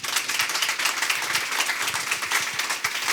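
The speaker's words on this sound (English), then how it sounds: "Let's give them a round of applause." Audience applause after a real estate lead generation talk: a steady wash of many hands clapping at moderate volume, dense and continuous through the short stretch with no speech over it.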